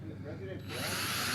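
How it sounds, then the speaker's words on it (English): A power drill bores into a stripped screw head during an electrical repair, whining steadily and rising in pitch as the bit bites. Talk runs underneath. "As you can see, as I'm drilling, the actual head comes off the screw."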